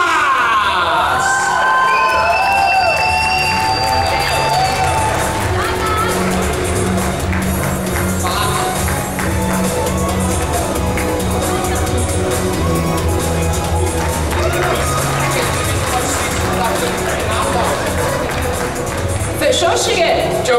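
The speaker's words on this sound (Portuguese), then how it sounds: "Palmas!" Audience at a cosplay parade claps, cheers and whoops continuously, with excited shouting from the crowd and a voice over the noise, loud and sustained throughout.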